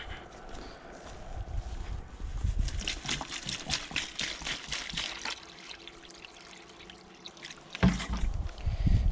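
Water poured from a jerrycan into a water point for honeybees: a steady trickling pour with splashing and light knocks of the container, fairly close and moderate in level, with a louder splash near the end.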